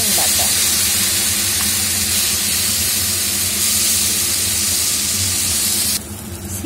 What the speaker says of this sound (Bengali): শিম বাটাটা দিয়ে ভালোভাবে নাড়িয়ে নেব।